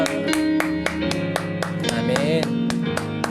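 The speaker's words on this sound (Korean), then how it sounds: "하나님께 영광의 박수 올리겠습니다." A congregation claps during a Wednesday church worship service: sharp, evenly spaced claps over sustained music, steady and moderately loud.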